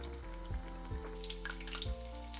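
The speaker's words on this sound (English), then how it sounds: "I deep fry them for 3 minutes over medium heat." Steady hiss and crackle of eggplant deep frying in oil over medium heat, with a low hum and a few soft bumps, continuous and close.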